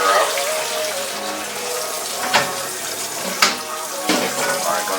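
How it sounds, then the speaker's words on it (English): Tap water runs loud and continuous into a sink for washing collard greens, a steady splashing gush with a few brief sharper splashes. "you're going to turn the water on"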